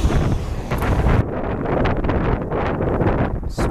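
Strong wind buffets the microphone in loud, continuous gusts outdoors, roaring broadband rush with no voices over it.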